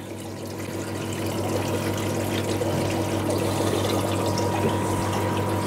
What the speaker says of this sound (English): I'm just trying to get the biggest bits of the algae and stuff hoovered up.